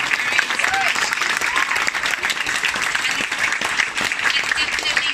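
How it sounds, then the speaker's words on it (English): A panel audience gives a round of applause, a loud, even wash of many hands clapping that holds steady from start to finish. "can we first of all give a round of applause to this amazing panel?"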